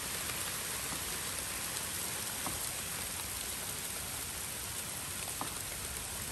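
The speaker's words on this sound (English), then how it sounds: "There's so much hail falling on the spring onions I planted yesterday." Hail falls steadily onto spring onions in a California garden, a dense even hiss of pelting ice with faint scattered ticks, continuous and moderately loud with no voices.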